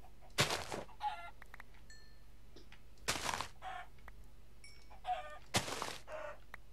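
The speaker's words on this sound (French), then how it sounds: "Oh, il y a tellement de poules." Chickens in a Minecraft-style survival game cluck and squawk in three sharp bursts, each followed by short trailing clucks, fairly close and clear against a quiet background.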